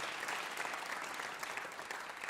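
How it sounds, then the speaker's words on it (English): Steady applause from a live-broadcast music show audience honoring the volunteer crew, a dense even patter of clapping heard from the hall throughout. "please give them a big round of applause"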